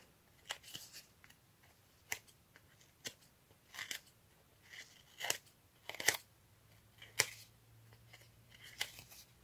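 Scissors make a series of small crisp snips spaced irregularly about a second apart, close and quiet, with no talking.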